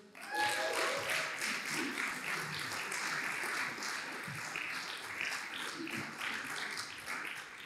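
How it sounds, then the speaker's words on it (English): An audience claps and cheers for a preacher at a Dublin Vineyard church gathering, sustained applause with a few whoops, loud and full, fading slightly toward the end. "Give her a cheer."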